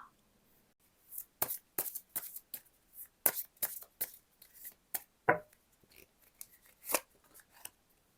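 Tarot cards are shuffled and drawn in a quiet room, with a string of crisp, close riffles, slaps and snaps in uneven bursts separated by short pauses, and no one speaking.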